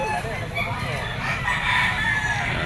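Roosters crow over a noisy poultry market at Grotto in the Philippines, where stags and yellow-legged birds are sold, with several overlapping calls rising through crowd clamour.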